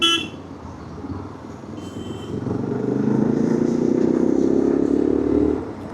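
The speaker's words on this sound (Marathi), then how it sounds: "तुम्हाला एक हॉर्नची सलामी." A vehicle horn blares in one long sustained honk of about three seconds, close by, over engine rumble and road noise.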